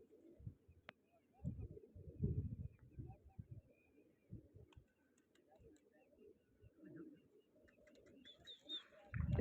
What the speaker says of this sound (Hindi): माशाल्लाह कबूतर उड़ रहे हैं